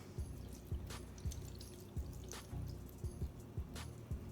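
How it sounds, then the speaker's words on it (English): Water poured onto craft foam in a container, heard as quiet, irregular drips and soft splashes, a few per second, close and faint. "Then I'm going to add some water."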